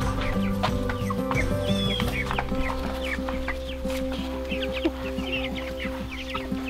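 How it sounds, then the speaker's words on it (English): Laying hens and a couple of roosters cluck and chatter steadily in a coop, a dense close chorus of overlapping calls with no talking. "So the only thing that's in here now is our layers and a couple of roosters here too."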